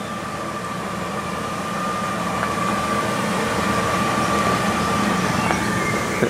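Class 142 unit 142088 pulls away from Brampton station in Cumbria, a steady rumbling roll of wheels on rail with faint clicks and a high whine, holding fairly loud and close throughout with no voices.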